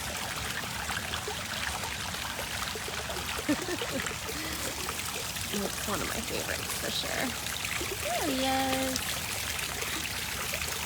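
Continuous rushing water of a flowing stream fills the background while a person speaks over it.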